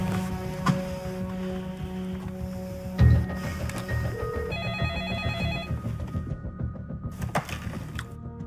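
Mobile phone ringing during a tense scene in a 2017 Portuguese time-travel drama, a repeating electronic ring tone over background music and scattered clatter, fairly steady through the clip with no speech.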